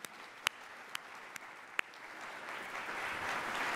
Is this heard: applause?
yes